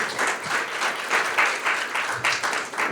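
An audience at a panel event on student debt gives a round of applause, clapping fairly softly but steadily with uneven pulses across the whole stretch.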